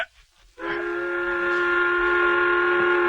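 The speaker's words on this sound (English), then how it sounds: "The whistle has blown." A steam whistle at a railroad construction site signals the midday meal break. After a brief quiet moment, one loud, sustained harmonic blast begins and holds steady to the end.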